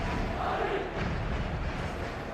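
Stadium crowd in the eFootball video game, a dense, steady roar of fans filling a big match-day ground, loud and unbroken, with no distinct voices standing out.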